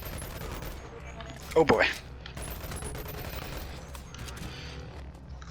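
A short burst of rapid SMG fire in the VR game Boneworks stands out briefly amid steady background game noise, with a voice speaking over it.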